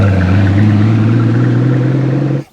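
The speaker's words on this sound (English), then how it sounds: "It has a very distinctive V12 sound" Mercedes S65 AMG V12 engine with a full FI valved exhaust, a loud steady deep rumble held throughout before cutting off abruptly at the end, with no talking.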